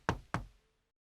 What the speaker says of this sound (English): Who's knocking on my door?